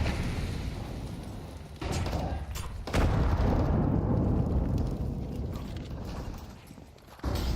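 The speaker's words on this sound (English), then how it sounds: "As the nades go out." Grenades going off in a first-person shooter match, several heavy booming blasts with deep rumbling low end, arriving in sudden successive jolts and lingering between hits.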